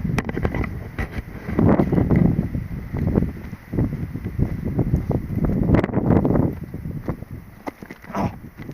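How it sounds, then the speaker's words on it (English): Wind gusts buffet the microphone outdoors in uneven swells of low rumbling roar, loud and close, with no talking. "That wind feels good"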